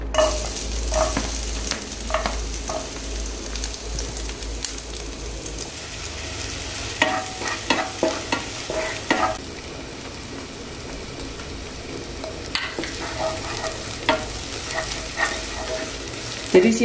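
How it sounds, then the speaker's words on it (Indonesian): Onions and garlic stir-frying in coconut oil, a constant crackling sizzle broken by repeated spatula scrapes and taps against the pan, close up with no talk. "Nah, di sini kita mau tumis dulu bawang-bawangan dulu."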